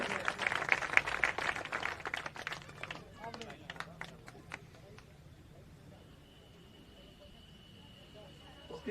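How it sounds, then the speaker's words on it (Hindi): Audience clapping at a school felicitation event in Bihar, a burst of dense applause for the first few seconds that thins into scattered claps and fades toward quiet room noise. "इनके लिए भी तालियां बजाइए बढ़िया से"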